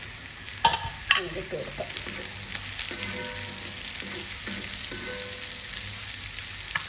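Chopped onion sizzling in a pan for mushroom masala, a steady frying hiss with a few stirring knocks near the start, under a brief spoken remark.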